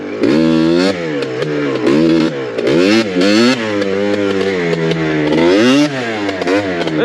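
A Yamaha Blaster ATV engine revs hard and repeatedly through rising and falling pitches during a ride, loud and close, with the throttle blipping in quick bursts.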